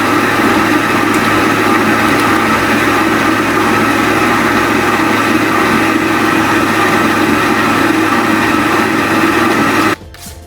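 A blender runs steadily, mixing cream cheese with egg for a strawberry cheesecake, a loud continuous motor whir that holds for about ten seconds before cutting off abruptly.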